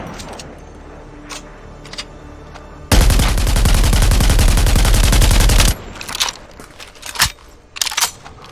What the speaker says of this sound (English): Peacekeeper also has a new firing sound from Season 10.